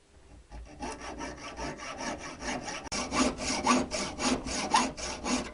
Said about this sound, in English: I'm going to take this saw cut down